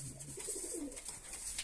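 Pigeons in a loft for young birds give soft, low throaty coos, a short rolling phrase heard faintly and close by.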